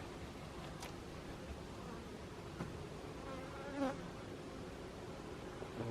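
Honeybees at an autumn hive, acting agitated, drone in a soft, steady hum, with a few individual bees buzzing past up close now and then.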